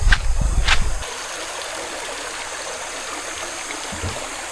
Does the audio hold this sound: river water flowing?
yes